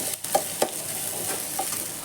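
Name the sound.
onion and tomato frying and being stirred in a pan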